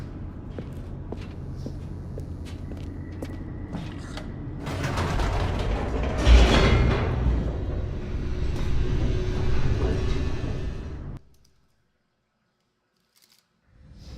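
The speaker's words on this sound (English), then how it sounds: "The elevator raced downward, plummeting towards an unknown fate." Elevator in The Stanley Parable plunging downward, a rumbling mechanical descent with creaks and a swelling roar that peaks midway, then cuts to silence near the end.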